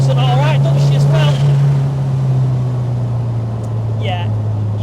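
A BMW 2002 fitted with an E30 1.8 engine running while driving, a steady loud low engine drone heard from inside the car, with people talking over it.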